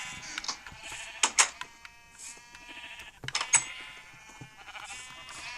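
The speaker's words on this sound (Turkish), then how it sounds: "Sonra burada koyunlarımız var." Sheep in the Minecraft video game bleat several times, with short, close, wavering cries in clusters over a quiet background.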